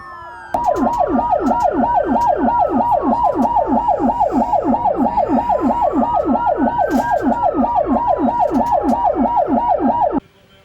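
Ambulances in a funeral convoy through a city sound their sirens together, a loud, continuous rapid wail overlaid with slower rising and falling tones for about ten seconds before cutting off.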